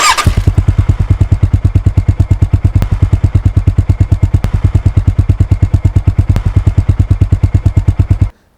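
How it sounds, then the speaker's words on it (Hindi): A Honda H'ness CB350's single-cylinder air-cooled engine idles steadily up close, a loud, even thumping beat of firing pulses that runs alone without a break, then cuts off abruptly at the end. "ये नॉइज़ होंडा ने बोला भी हमको कि they worked on the noise of this engine"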